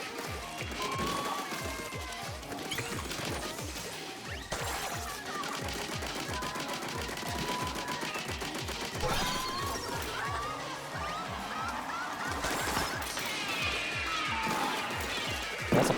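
Bomb rush in Splatoon 3 Side Order: rapid, repeated popping bursts and crashing impacts stack over busy game music, loud and continuous with a few sharper blasts near the end.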